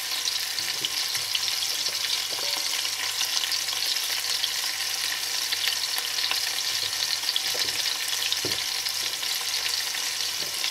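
Cod and smoked paprika fry in a pan, giving a steady, even sizzle throughout, with occasional soft scrapes as the pan is stirred; no talking.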